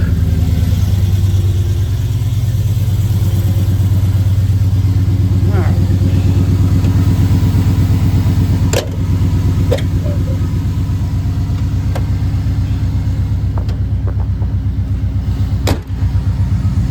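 A car engine runs loud and steady, close by, holding a low rumble for the whole stretch with a few brief clicks and thumps but no clear start or rev.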